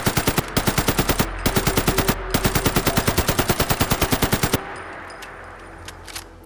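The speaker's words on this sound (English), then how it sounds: "Sounds meaty too and nice. Let me just let you hear this for a little bit." Modded R91 assault rifle from Fallout 4 firing in rapid, loud automatic bursts with brief pauses, then stopping, leaving faint ambient game sound and a couple of soft clicks.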